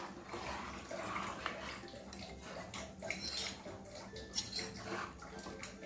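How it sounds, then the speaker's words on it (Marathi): Chicken biryani in a pot with hot water is stirred and sloshed, producing a soft, continuous watery churning with occasional light clinks of a utensil against the pot, close but quiet, without talk. "यात आता गरम पाणी टाकून घेतलेलं आहे आपण ह्याला पुन्हा मिक्स करून एक मोठ्या फ्लेमवर छानशी उकळी येऊ द्या"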